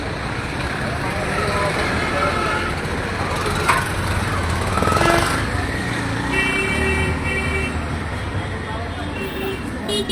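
Congested street traffic in a busy city crossroads, with idling engines, a steady roadway rumble and occasional horn toots, while voices shout nearby throughout.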